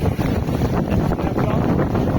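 Strong wind of nearly 20 knots roars steadily across the microphone aboard a sailboat at sea between Greek islands, with mainsail reefed and genoa reduced; a continuous loud, buffeting rush with water and hull noise underneath.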